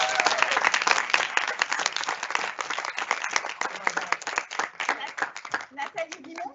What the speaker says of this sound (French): je vais vous demander également d'applaudir